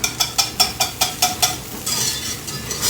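Flour frying in a pan for red-eye gravy, stirred with a utensil in a quick steady scraping rhythm of about seven strokes, then a continuous close sizzle.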